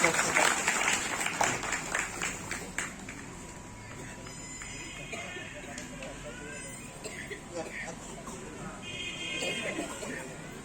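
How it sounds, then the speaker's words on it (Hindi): A crowd at a village coronation ceremony in Gudrapada Parish claps in a burst of scattered applause that fades after a few seconds, followed by a muddled background of voices and faint music. "ताली दो में पैसा नहीं लगेगा"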